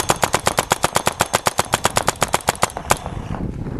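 A mechanical-trigger Azodin Kaos paintball gun fires a fast, even string of about twenty close, loud shots in under three seconds, then stops.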